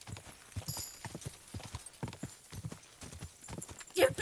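Steady hoofbeats of a horse in Final Fantasy XIV clip-clop in a quick rhythm, with a short whinny near the end.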